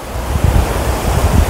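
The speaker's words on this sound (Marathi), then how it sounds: "सुंदर असा समुद्र आहे, सुंदर असा बीच आहे।" Sea waves roll onto Juhu beach in Santacruz, Mumbai, a loud, steady surf wash mixed with gusting wind buffeting the microphone, with no voices.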